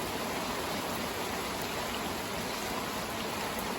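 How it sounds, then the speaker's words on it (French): Heavy rain pours down steadily during an evening downpour in late September, a dense, unbroken hiss of water close by that holds the same strong level throughout, with no voices. "Et c'était pas de la petite pluie."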